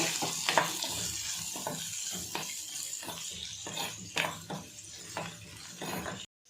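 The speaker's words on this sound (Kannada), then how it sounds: "ಈಗ ಇದನ್ನು ಸ್ವಲ್ಪ ಫ್ರೈ ಮಾಡ್ಕೋಬೇಕು." Baby corn sizzles and fries in a pan with chilli powder and salt, a steady close crackle broken by repeated scraping stir strokes, with no talking.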